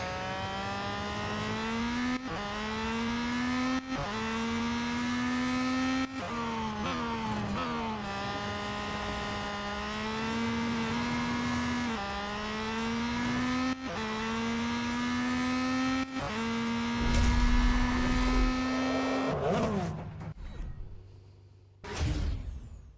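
Racing game car engine from Real Racing 3, a steady high whine rising and falling through repeated gear shifts, loud and continuous, ending with scraping rumble as the car runs off the track, no talk.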